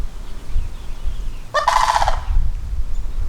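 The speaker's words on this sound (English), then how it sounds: "Yeah, I love the sandhill cranes." Sandhill cranes call outdoors in a single loud, rolling, trumpeting burst lasting under a second midway through, set against steady low background noise.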